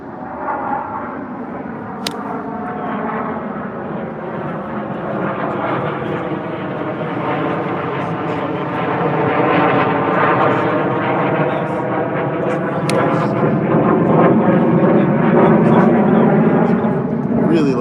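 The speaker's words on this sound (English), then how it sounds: "Let me just let those planes go by." Jet airplanes passing overhead near the Miramar air base, a loud continuous roar that swells steadily over nearly twenty seconds, with people talking beneath it.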